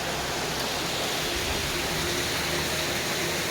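Caboolture River Falls in Queensland, a set of waterfalls on the Caboolture River, pouring in a steady, dense broadband rush that stays constant and fairly loud throughout.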